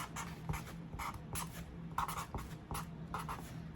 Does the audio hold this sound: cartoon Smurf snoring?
no